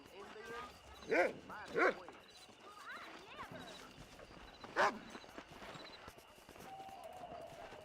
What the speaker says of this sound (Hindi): भाई ये कुत्ता भी मेरे पीछे पीछे आता है।